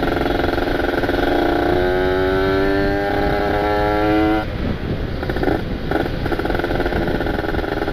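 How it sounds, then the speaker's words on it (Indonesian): Kawasaki Ninja RR two-stroke motorcycle with a ported engine revs loudly close by, pitch climbing then dropping back to a raspy idle. "Ini motor makin bacot suaranya."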